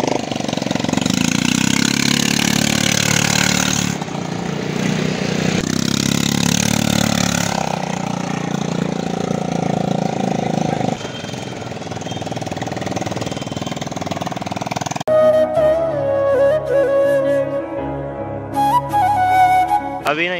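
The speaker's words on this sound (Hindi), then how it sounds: "यार एटीवी की राइड ले रहे हैं हम" ATV engine droning steadily during a ride, a loud continuous mid-pitched rumble with slight rises and falls in revs, fading later under tonal background sound.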